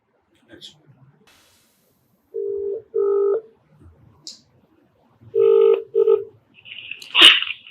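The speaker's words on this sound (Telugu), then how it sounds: "నాకు నెంబర్ కూడా షేర్ చేశారు, ఒకసారి కాల్ చేస్తానండి." A phone call is placed, with a few short, steady electronic tones in separate bursts over quiet gaps. A brief rough noise burst closes the sequence.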